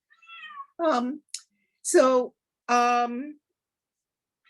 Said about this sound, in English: And here comes my cat.